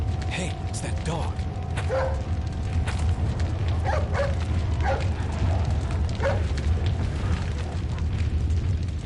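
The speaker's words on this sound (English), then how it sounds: "it's that dog" A dog in Resident Evil 4 barks in short sharp bursts over a low rumbling game backdrop, with clicks and mechanical gunplay sounds scattered between the barks.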